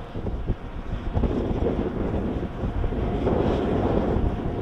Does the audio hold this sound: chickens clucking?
no